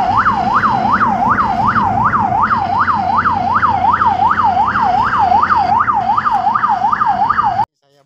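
An ambulance siren on a volunteer-escorted ambulance heading to hospital in Minahasa Selatan wails loud and close in a rapid, steady rise-and-fall cycle for about seven seconds, then cuts off abruptly.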